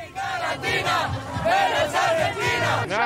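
A dense crowd of football fans chants and yells rhythmically on the way to Kazan Arena for a Colombia versus Poland World Cup match, loud overlapping voices rising and falling in bursts close by.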